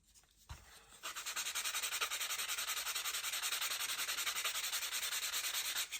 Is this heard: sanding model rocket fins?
yes